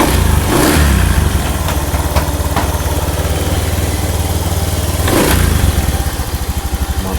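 Close-up of a Honda Scoopy scooter engine running steadily after an ignition repair, a continuous loud idle with a couple of short throttle blips.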